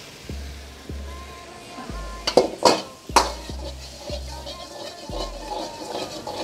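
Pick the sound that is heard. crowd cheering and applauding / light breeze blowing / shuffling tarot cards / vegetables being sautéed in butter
vegetables being sautéed in butter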